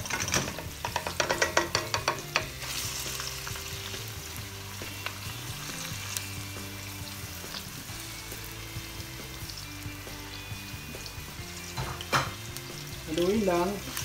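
Chicken breast frying and being stirred for pancit bihon, a steady close sizzle with scraping and clinking of a utensil against the pan throughout, busier clatter near the start and no voices.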